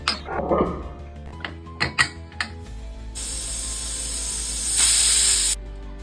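A pressure cooker cooking sambar hisses steadily with a loud steam jet that swells briefly before cutting off, preceded by a few clanks and knocks.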